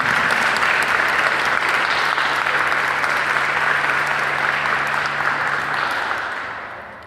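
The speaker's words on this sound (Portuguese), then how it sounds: "Pode aplaudir." Congregation applauding at a church service during a sermon on the Holy Spirit, a loud, continuous wash of clapping from a large crowd that holds steady, then fades out near the end.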